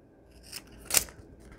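Small scissors trim paper for a crinkly junk journal bag, giving one short, crisp snip up close, preceded by a fainter cut, in an otherwise quiet room.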